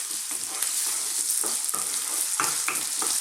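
Small diced potatoes frying over lively heat in a pan with minced beef and onions, a loud steady sizzle with repeated stirring scrapes and tosses throughout.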